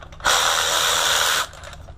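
A ratcheting power tool whirs steadily for just over a second while backing a bolt out of the front cover of a Ford 5.4L engine, loud and close, with no talk.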